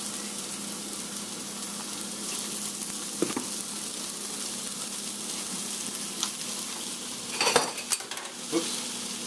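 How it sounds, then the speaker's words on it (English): Ground meat browning in a hot pan for taco salad, a steady close sizzle and fry throughout, with occasional clinks and scrapes of a utensil stirring near the end. "we're going to go ahead and throw the meat in there real quick"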